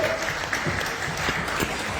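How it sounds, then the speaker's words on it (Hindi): Audience applause at a Modicare success-story gathering, a dense steady wash of clapping throughout with some voices mixed in. "जोरदार ताली होनी चाहिए सारे चेयर्स के लिए"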